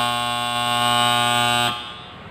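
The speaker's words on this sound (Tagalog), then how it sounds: "nung inon ko siya, tumunog yung buzzer natin at umilaw yung rotary light natin" A water tank alarm buzzer drones loudly and continuously with a harsh electronic tone for under two seconds, then stops abruptly, leaving faint background noise.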